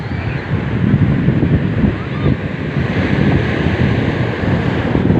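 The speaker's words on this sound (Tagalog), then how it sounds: "Grabe ang lakas ng alon, no?" Strong ocean surf rolls in at Tondaligan beach, a loud, continuous wash of breaking waves mixed with heavy wind buffeting the microphone, with faint voices underneath.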